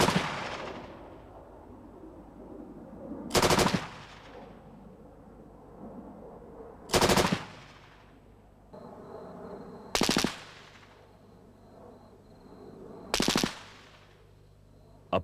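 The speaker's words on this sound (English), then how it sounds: "Target number 2 for the Minimi is the double brick cavity wall." A Minimi machine gun fires at a double brick cavity wall in four short, loud bursts spaced about three seconds apart, each sharp crack trailing off into a fading echo between the bursts.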